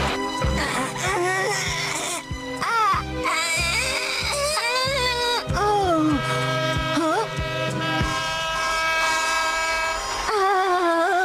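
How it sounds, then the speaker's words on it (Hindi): A cartoon train rushes forward, its loud horn and rumble mixed with dramatic music and wailing cries, with voices calling out under the din. "वो ट्रेन तेजी से मेरी तरफ आ रही है।"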